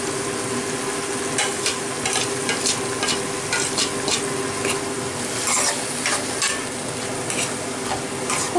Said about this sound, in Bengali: ততক্ষণ থেকে কষাতে হবে যতক্ষণ না তেলটা মশলা থেকে ছেড়ে যাচ্ছে